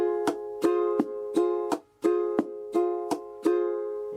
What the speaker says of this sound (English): if you leave it pressing down on the strings, it sounds like this